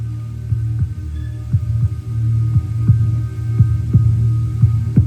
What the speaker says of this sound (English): The old man's heartbeat.